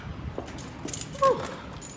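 Keys jangle briefly while someone unlocks an apartment building door, a short metallic clink of keys with a few light taps and handling noises close by, and no talking.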